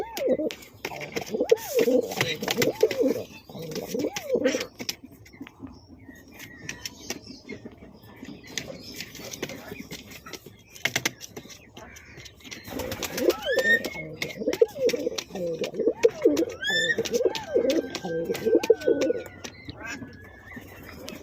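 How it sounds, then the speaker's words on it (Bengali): A pair of large domestic pigeons coo in repeated low, throaty bursts close by, broken by quieter gaps, with faint bird chirps and a voice in the background. "একদম বিগ সাইজের পায়রা আছে বন্ধুরা, আপনারা দেখতেই পাচ্ছেন।"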